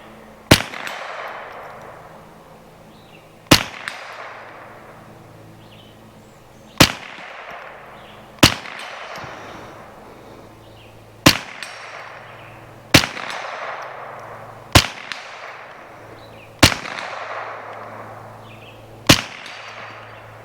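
Marlin Model 60 rifle firing at targets 75 to 80 yards away outdoors, ten sharp cracks spaced about two seconds apart, each trailing a short echo, with no talking.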